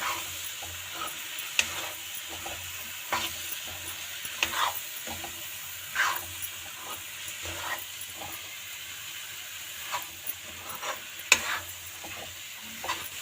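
A spoon stirs white peas and potato curry in a pan, scraping and clinking at irregular intervals over a steady low sizzle, close and moderately loud, with no talking.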